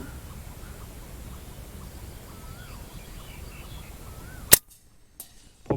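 A single sharp crack from an FX Impact Compact MkII air rifle firing an 18-grain pellet outdoors, standing out sharply after steady ambient hiss with birds, followed by a fainter distant report.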